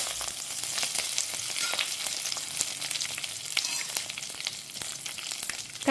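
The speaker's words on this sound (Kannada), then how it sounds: "ಇವಿಷ್ಟು ಚೆನ್ನಾಗಿ ಫ್ರೈ ಆಗಬೇಕು" Red chilli pieces and curry leaves fry in hot oil in a pan, giving a dense, steady sizzle with crackles and spatters close by, plus the odd stirring clink.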